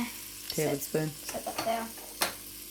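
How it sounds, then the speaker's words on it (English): Butter sizzles and crackles steadily in a hot pan while utensils clink and stir nearby, with a person talking briefly over the frying. "Yummy butter. Look at it sizzle."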